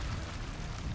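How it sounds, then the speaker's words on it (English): Teostra's explosion in Monster Hunter World, a dense, roaring blast that fills the whole second with broad rumbling noise and no break. "that's the explosion I was talking about"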